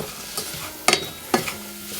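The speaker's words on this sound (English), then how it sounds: "Stir this through" A spoon stirs Bisto brown gravy mix through softened mushrooms in a pan for an Angus beef pie, making two short, close scraping strokes with a faint sizzle under them.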